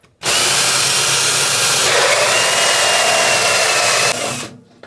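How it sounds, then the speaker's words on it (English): A power drill starts abruptly, whirs loudly at high speed for about four seconds, its pitch shifting briefly as it bites in, then stops. "now we've got to drill a hole right here"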